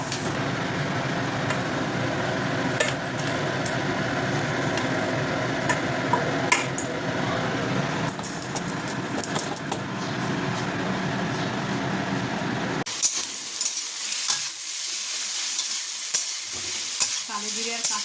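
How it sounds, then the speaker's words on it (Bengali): Onion and vegetables fry in a pan seasoned with black cumin and green chilli, giving a steady, busy sizzle throughout that turns brighter and hissier near the end. "দিয়ে আর পেঁয়াজ দিয়ে সবজিটা ভাজছি"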